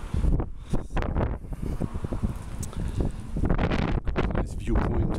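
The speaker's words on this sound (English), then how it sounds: "a little bit windy because it's open space" Wind blows across an open riverside viewpoint on the Neisse at the Germany-Poland border, with gusty buffeting and rumbling on the microphone, swelling and easing throughout without speech.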